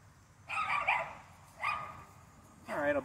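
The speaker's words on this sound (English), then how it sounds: "Let's get away from this dog." A dog barks three times in separate bursts, fairly close, over a quiet outdoor background.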